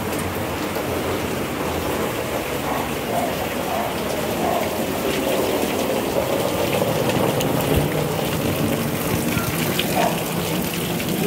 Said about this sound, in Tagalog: Yan oh, malakas ang ulan.